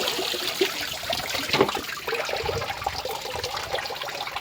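Lemons being washed in water, a steady, fairly loud rush and trickle of running water with continuous splashing throughout.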